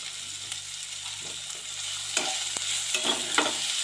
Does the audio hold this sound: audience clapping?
no